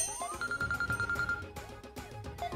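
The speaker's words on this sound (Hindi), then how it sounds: "अरे तो नोनी का फोन है।" A telephone rings indoors with a rapid electronic trill in repeated bursts, moderately loud with a brief pause near the end.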